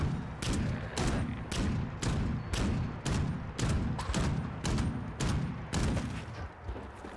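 Rapid gunfire in a video game, aimed at an enemy's legs: a steady series of loud, sharp shots roughly every half second across the whole stretch, close and punchy with a thumping low end, no talking over it.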